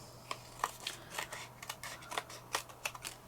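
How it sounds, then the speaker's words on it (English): Scissors snip around the edge of patterned craft paper cut from a 12 x 12 pad for notecards, a quiet series of close, crisp cuts in an uneven rhythm with no talk. "So let's cut around it."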